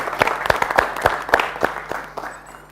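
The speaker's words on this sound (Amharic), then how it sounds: "መጀመሪያ ሁለታችሁም በጣም ጭብጨባ ያስፈልጋችኋል" Studio audience applauding at an Ethiopian talent competition show, a burst of scattered claps with distinct sharp hand strikes over a couple of seconds, fading toward the end.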